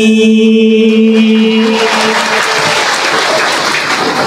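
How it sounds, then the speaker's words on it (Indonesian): Loud audience applause at an Islamic religious gathering swells and continues steadily, many hands clapping at once; a sustained tone fades out in the first seconds. "Gitu doang tepuk tangan ya."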